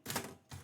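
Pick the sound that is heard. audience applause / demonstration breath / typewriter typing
typewriter typing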